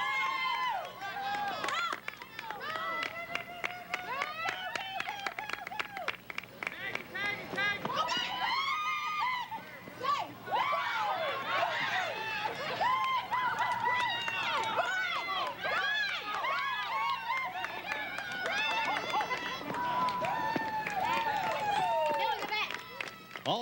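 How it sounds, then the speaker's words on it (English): A crowd at a fall 1998 baseball game screams and cheers after the score is tied, a dense continuous wash of many shouting voices that stays loud and steady throughout. "All the screaming going on because the game's now tied at 5, and Ford made it all the way to third."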